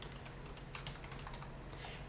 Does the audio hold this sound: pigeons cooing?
no